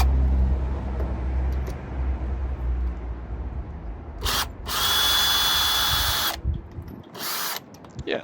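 A cordless drill fitted with an impact adapter spins a 19mm deep socket to undo a heavy bolt: a low motor drone, then two sharp high whirring bursts with a brief pause between, close and loud.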